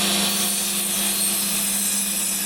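Saw cutting through the wooden dowels joining old wooden shutters, a loud, continuous, even rasp with a steady hum underneath and no speech.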